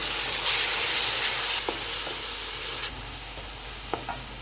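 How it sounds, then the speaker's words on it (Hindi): Tomatoes stirred into keema frying in oil, a steady sizzle with a few soft scrapes of the spoon, close by and with no talking. "1 मिनट गुजर गया है, इसमें टमाटर डालेंगे। इनको मिक्स करेंगे।"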